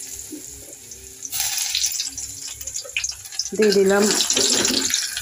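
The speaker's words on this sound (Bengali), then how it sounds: "আগে শাকগুলো ভেজে নিব।" Red amaranth greens, with chopped onion and garlic, drop into hot oil and start sizzling loudly a few seconds in, after quieter kitchen clatter. Someone speaks briefly.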